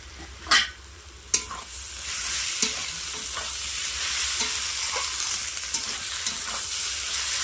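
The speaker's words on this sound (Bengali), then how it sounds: "পেঁয়াজ রসুন ভালোভাবে ভেজে নিয়েছি। এবার দিয়ে দেবো আদা বাটা, তেজপাতা," Onion, garlic, ginger paste and bay leaf frying in a pan for a village-style Bengali chicken curry, a steady close sizzle broken early by two sharp clanks of stirring and then light scraping taps.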